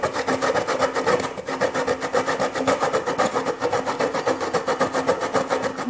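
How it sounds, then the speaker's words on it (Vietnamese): Cassava root being grated by hand on a grater, a rhythmic rasping scrape repeated in quick, even strokes, close and steady throughout without talking. "Giờ mình sẽ bào cái sắn này ra nhé các bạn"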